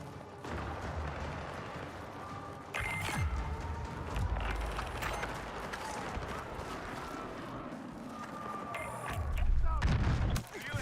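Enemy gunfire in a Battlefield game crackles in scattered bursts and distant booms over a busy battle background, with louder rattling volleys near the start and end.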